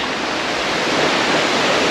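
A waterfall and cold river in Bali rush as a loud, steady broadband roar close by, with no pauses and no voices.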